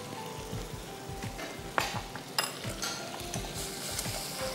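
Butter and flour are stirred together in a pan for a white sauce, giving a steady run of rhythmic scraping strokes with a faint sizzle underneath and a few sharper clacks of the utensil against the pan.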